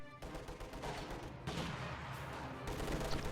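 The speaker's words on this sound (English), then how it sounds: "Continues to bombard this area with the MG42." An MG42 machine gun in a video game battle fires sustained bursts that are dense and loud, with a renewed volley about halfway through, over a rumbling battlefield background.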